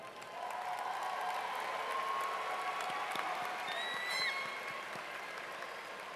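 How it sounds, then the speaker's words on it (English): Graduation audience applauding school staff and faculty, sustained dense clapping from a large crowd lasting several seconds at a steady level, with a faint whistle-like tone near the end. "let us give you a round of applause"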